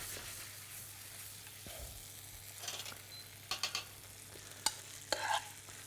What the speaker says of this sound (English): Just keep on moving it around the pan, just using the spatula and the pan to give you a nice shape.